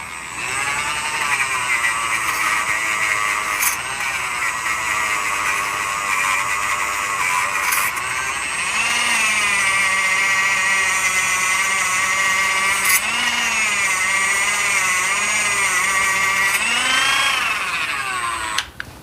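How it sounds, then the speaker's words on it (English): A Dremel rotary tool whines continuously at close range as it grinds rust off an Insinkerator garbage disposal motor, its pitch dipping and rising with load, with brief clicks, and no talk. "I'm gonna use my Dremel and I'll show you how much rust is on here."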